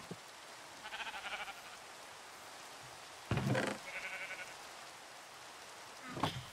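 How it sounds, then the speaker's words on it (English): Sheep in Minecraft bleat in short, wavering calls, three separate bleats spread across a quiet background with faint soft noise, no talking. "Now we have another sheep."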